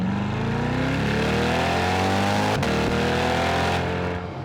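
A Chevrolet Corvette C8 engine downshifting, a loud, close, sustained engine drone with a quick shift break partway through followed by steady running, with no talking.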